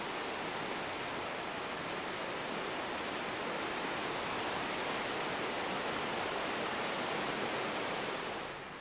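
Bright Angel Creek rushes through a narrow gorge in the Grand Canyon, a steady, even roar of flowing water that fills the whole stretch without a break.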